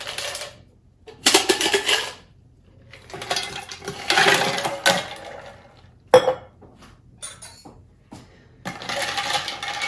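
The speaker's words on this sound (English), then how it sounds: "Let's add a little bit of ice." Ice cubes clatter into a cocktail mix of lime and pineapple juice, several separate bursts of rattling and clinking against glass or metal, close and loud, with short quiet gaps between them.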